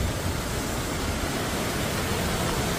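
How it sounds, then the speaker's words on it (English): Waterfall at Bell's Gorge pouring steadily, a dense, even broadband roar of falling water that holds constant and fairly loud throughout with no voices. "That's the waterfall."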